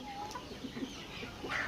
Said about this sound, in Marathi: हे आहेत ब्लॅक ॲस्ट्रोलॉब जातीचे पक्षी।